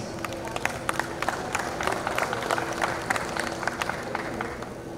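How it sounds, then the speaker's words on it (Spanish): Sustained audience applause and crowd noise greet a music group at a public session in Charapotó, with dense overlapping claps throughout and some faint voices underneath. "Fuerte los aplausos para escucharlos."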